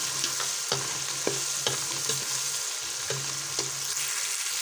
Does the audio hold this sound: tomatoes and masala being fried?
yes